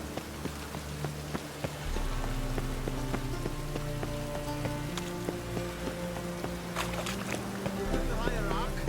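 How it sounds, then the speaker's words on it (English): Rain falls in The Witcher 3: Hearts of Stone, a steady hiss and patter of drops running throughout beneath sustained background music, with a few sharper taps standing out near the end. "Rain again."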